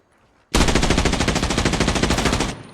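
Automatic gunfire in the video game Arena Breakout Infinite, a single sustained burst of rapid, evenly spaced shots lasting about two seconds, loud and close after a quiet start, then cutting off.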